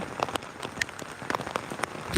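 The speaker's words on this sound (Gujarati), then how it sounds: "તમે જોઈ શકો છો મિત્રો વરસાદ આવી રહ્યો છે" Rain falls steadily, with scattered drops tapping and pattering on a nearby surface and no voices.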